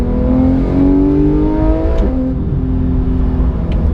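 A Jaguar F-type accelerates hard past another car on a drive toward Monaco, its engine note loud and close, rising in pitch with a steady sustained roar throughout.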